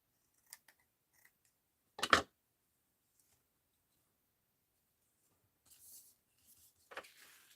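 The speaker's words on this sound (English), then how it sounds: "Let's cut off some here." Scissors snip through craft material such as lace for an art journal tag, with one sharp close cut, a few faint ticks before it, and a couple of soft rustling snips later in near silence.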